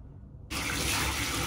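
Water gushes from a tap during hair washing, starting abruptly after a moment of quiet and then running as a steady, close, full hiss.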